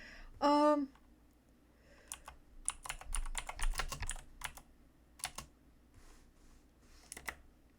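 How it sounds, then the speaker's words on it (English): Steady clicking of computer keys being typed on, irregular bursts of keystrokes running through most of the stretch, close to the microphone, with a brief louder sound near the start and no talk over it. "Sorry, I'm typing and I don't have the brain space to type and yap."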